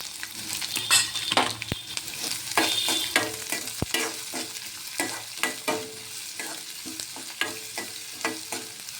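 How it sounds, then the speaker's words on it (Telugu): Chopped onions fry in a pan with a steady loud sizzle while a spoon stirs and scrapes, giving a string of sharp knocks and clatters up close. No one speaks. "ఇప్పుడు మనం తరిగి పెట్టుకున్న ఉల్లిపాయ ముక్కలు వేసుకున్నాము."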